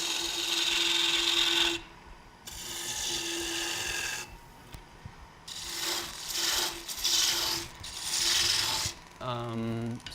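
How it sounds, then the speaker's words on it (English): A carving tool cuts downward into wood, the blade rotated through each stroke, making repeated close rasping scrapes in several bursts with brief pauses between them, and no talk over it. "I'm kind of rotating the tool as I'm cutting downwards just to get a nice, more sharp cut."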